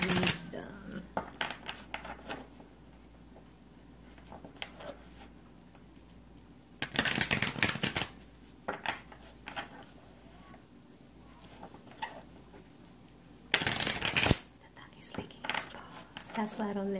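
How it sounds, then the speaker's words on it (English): A tarot card deck is shuffled in two short, crisp riffling bursts spaced several seconds apart, with quiet talking and soft handling noises in between. "Let's get with this deck. Shuffle them so we can read them."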